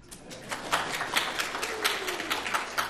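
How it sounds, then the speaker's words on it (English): Audience clapping at a talk on turning hacker insights into business value, a scattering of distinct hand claps that come irregularly and at moderate loudness, fairly close in a quiet room. "Now we can clap."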